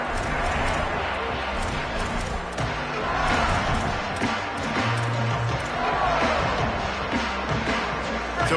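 A packed college football stadium crowd roars steadily through a night game with Ohio State's Buckeyes, a loud, continuous wash of cheering and noise with no break.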